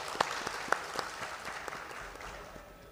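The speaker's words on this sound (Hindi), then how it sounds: "आपकी भरपूर तालियों में" Audience applause at an Urdu conference in Karachi, a short burst of moderate clapping that fades out over a few seconds.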